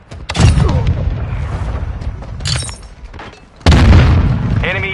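A grenade goes off in the Call of Duty video game, a loud booming blast with a second heavy detonation later, amid chaotic battle noise and voices talking.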